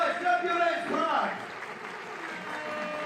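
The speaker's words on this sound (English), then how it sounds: "make some noise, clap your hands, Prague" A crowd claps and cheers at the FIBA 3x3 basketball World Tour finals in Prague, a diffuse wash of applause that rises under an announcer's amplified voice and carries on after he stops.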